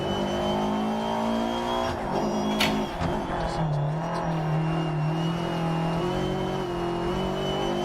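Rally car engine in DiRT 2.0, a loud continuous drone with shifting revs and gear changes, close and steady throughout with a brief tire or impact burst midway.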